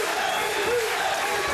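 A boxing crowd at the Robert Guerrero vs Spend Abazi fight roars in a steady wash of cheering and applause, with no breaks or peaks.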